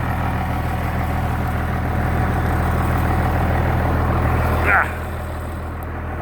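A tractor engine idles in a muddy cattle-feeding yard during a February ice storm, a steady low rumble with a constant hum, close by, briefly dipping as a door or latch clunks near the end.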